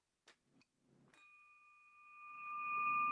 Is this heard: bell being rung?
yes